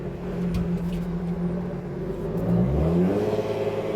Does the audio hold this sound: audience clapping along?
no